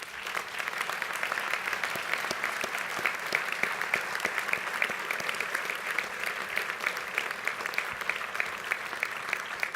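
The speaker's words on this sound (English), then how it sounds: "would you please stand up and accept our applause?" Steady audience applause fills a graduation awards ceremony for law students, sustained and even across the whole stretch, with no voices rising above the clapping.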